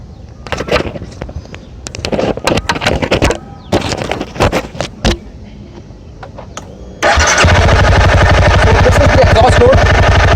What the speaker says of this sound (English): So this is the exhaust note at idle